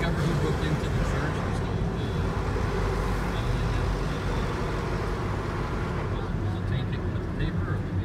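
A rented passenger van climbing the mountain road up Mount Subasio near Assisi, a continuous loud engine and road rumble filling the cabin, with faint voices blending into the drone.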